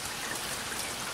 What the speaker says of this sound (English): it's another rainy day in Georgia